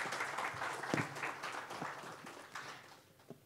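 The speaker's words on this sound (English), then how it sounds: "Let's have a huge round of applause for him." A conference audience applauds a speaker, with a fairly faint, moderately dense clatter of clapping and a few louder individual claps standing out as it trails off.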